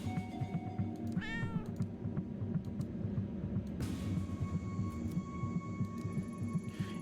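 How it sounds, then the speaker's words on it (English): A cat in the video game Tokyo Dark gives a short rising meow, clear over a steady low ambient drone with occasional soft clicks. "Oh, there's a cat."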